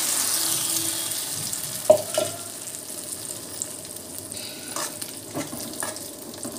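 Ground chutney poured into a hot tempering of cumin and mustard seeds, sizzling with a steady hiss while a spoon scrapes and stirs, a few clinks and knocks on the pan, no voices.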